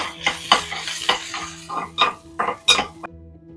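Chopped garlic cloves hit a pan of hot oil, giving bursts of sizzling mixed with sharp clinks and scrapes of a metal spoon against the pan, close and fairly loud, no talking.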